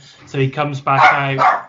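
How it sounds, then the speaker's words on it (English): A small dog barks and yips in quick bursts, close and loud, over someone talking about a wrestling event. "Apologies for the dog, everyone."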